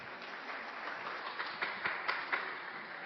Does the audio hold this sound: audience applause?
yes